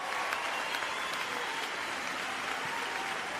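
Steady applause from a crowd, dense clapping that fills the whole stretch at an even level without pause.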